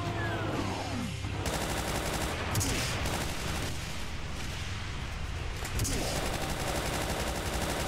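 A chaingun in the first-person shooter Brutal Doom fires at demons in a dense, continuous rapid burst of shots, with heavy blasts and game noise filling the whole stretch at a loud, steady level.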